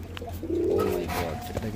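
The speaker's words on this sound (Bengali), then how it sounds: "এটা কিন্তু বিগ সাইজ কবিতর হয়ে গেছে মাশাল্লাহ" A large pigeon gives a soft, low cooing call, close by and brief, partly under a man's speech.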